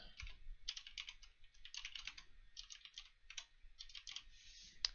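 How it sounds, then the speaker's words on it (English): Quick bursts of typing on a computer keyboard as a name, username and email are entered into a registration form, with irregular clusters of light clicks separated by short pauses and one sharper keystroke near the end. "I will just go ahead and type in my name, username, email address"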